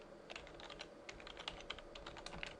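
A command being typed on a computer keyboard: a quick, irregular run of light, crisp key clicks, close and fairly quiet, with no talking.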